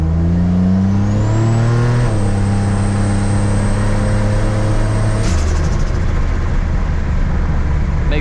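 A turbocharged 1986 Buick Grand National accelerates from inside, engine drone rising through a short-shifted gear change, a turbo whine climbing above it, loud and close throughout.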